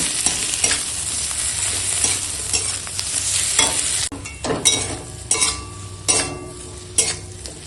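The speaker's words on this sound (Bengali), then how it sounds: "এখন দিয়ে দেব এই ম্যাশ করে রাখা আলু দিয়ে ভালো করে চোখাটা বানিয়ে নেবো" Mashed potato is stirred into cumin frying in oil in a pan for an aloo chokha, loud close sizzling broken by repeated scraping and knocking spoon strokes, no talk.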